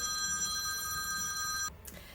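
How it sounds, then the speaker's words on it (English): A telephone rings in short electronic trills that repeat steadily at close range in a quiet room, then cut off abruptly near the end. "That was a little interruption, a phone interruption."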